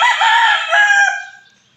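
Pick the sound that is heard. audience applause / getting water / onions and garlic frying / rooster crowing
rooster crowing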